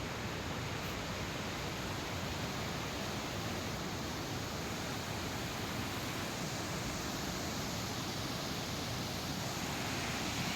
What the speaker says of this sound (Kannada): ಸೊ ಉಳಿದಂತಹ ನೀರು ಮಧ್ಯದಲ್ಲಿ ಹಾದು ಹೋಗುತ್ತೆ